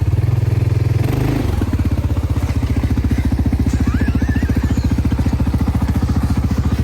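A Polaris General XP1000 UTV reverses off-road with the diff lock engaged on a forestry track. Its engine throbs in a loud, close, rapid regular beat that shifts in tone early on, then settles into a steady labouring pulse.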